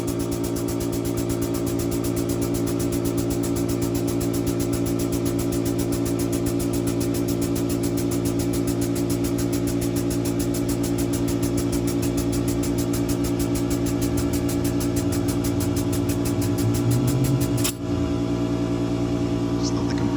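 A GM Silversides bus with a Detroit Diesel 6-71 engine runs at a steady, loud, close idle during its first start in many years, a droning, rumbling note that holds evenly throughout with a brief disturbance near the end.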